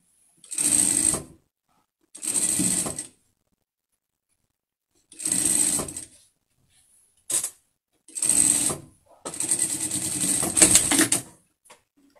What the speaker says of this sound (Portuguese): Vamos passar a costura agora aqui no queixo.